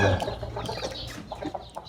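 A rooster clucks and calls close by, with scattered bird and farmyard noise and some voices in the background.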